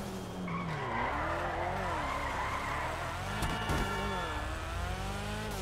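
Tires squeal continuously as a customized Mazda RX-7 (Annis ZR350) drifts in GTA Online, with the engine droning underneath. The screech is loud and steady, wavering in pitch throughout, with no talking.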